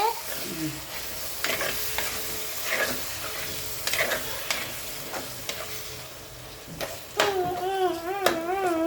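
Masala sautéing and sizzling in a clay pot for mint biryani, a steady frying hiss with repeated scraping stirs throughout, plus a wavering tonal squeak near the end.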